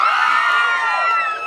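A jaripeo crowd cheers loudly and continuously, many high voices whooping and shouting together in a sustained roar that eases slightly near the end.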